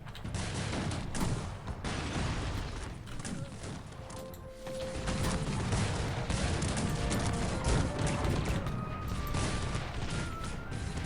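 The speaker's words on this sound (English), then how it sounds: "Still got some multi-barrel cannons going right here." Multi-barrel cannons fire in a Cossacks 3 battle of a Russian war: dense, continuous volleys of loud crackling bursts and booms, with clanking mechanisms and crashes mixed in, sustained throughout.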